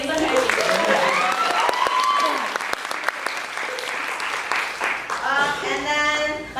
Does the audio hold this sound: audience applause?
yes